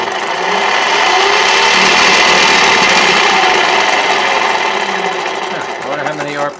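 A Hyper9 electric motor fitted to a boat's outboard motor runs loud and steady with a high whine and mechanical rattle, easing off near the end, while voices talk over it.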